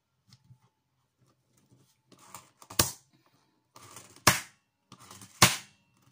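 Holes are punched into a paper notebook with three sharp, loud snaps spaced a second or so apart, each preceded by faint scraping and rustling handling.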